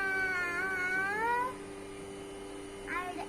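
A kindergarten child at a school competition imitates a cat, voicing one long wavering meow and then a shorter one, close and clear.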